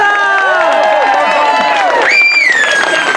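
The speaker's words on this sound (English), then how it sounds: "Cheer for them!" A theatre audience at a live Shakespeare performance of Julius Caesar cheers the actors taking their bows, loud whoops and shouts rising over a busy crowd roar throughout.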